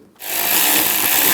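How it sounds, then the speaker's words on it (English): A power tool whirs up after a brief silence, tightening worm-drive hose clamps on a GMC Yukon XL, then holds a steady high-pitched buzzing close by. "Tighten down the worm clamps."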